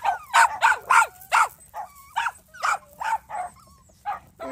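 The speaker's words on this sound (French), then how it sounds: "Et les chiens, ils l'ont senti, ils n'arrêtent pas de crier." Dogs excited by hares nearby bark repeatedly in loud, close, evenly spaced yaps with short whines between them, no talking over them.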